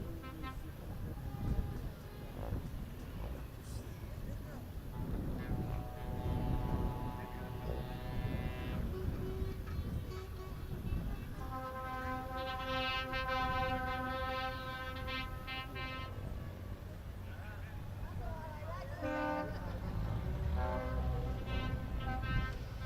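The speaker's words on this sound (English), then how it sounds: "A sound of air horns around the Pembrey Circuit can mean only one thing" Several loud, sustained truck air horns blare in overlapping blasts over a rumbling engine background at Pembrey Circuit motorsport event, with crowd noise and voices mixed in.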